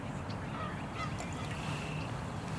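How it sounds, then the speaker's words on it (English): Geese near their nest at a lake or pond honk faintly a few times over steady outdoor background noise, sounding agitated at the close approach of people. "Some geese that aren't happy with us being close to their nest."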